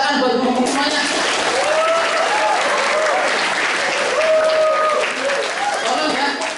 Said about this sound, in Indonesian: Tepuk tangan buat guru-guru semuanya.